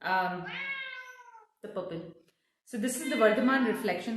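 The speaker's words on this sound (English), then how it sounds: "So that's my cat kind of crying for attention." A cat meows insistently in the background while a person keeps talking in the foreground.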